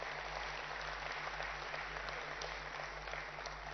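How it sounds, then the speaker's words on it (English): An audience at a mobility summit in Hyderabad gives sustained applause, a dense, even patter of many hands clapping in a large hall that holds steady for several seconds under a low electrical hum. "I think she deserves a bigger round of applause"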